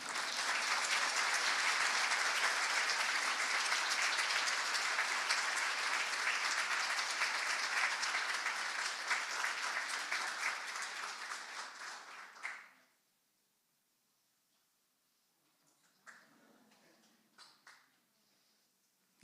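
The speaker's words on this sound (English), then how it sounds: "deserves another round of applause." Sustained applause fills a law society admissions ceremony hall, loud and steady for about twelve seconds before cutting off abruptly, followed by near silence and a few faint scattered sounds.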